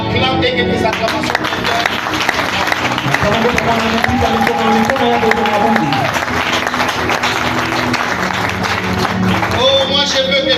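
A church congregation cheers and applauds loudly and continuously, a dense wash of clapping and voices with music-like tones running underneath.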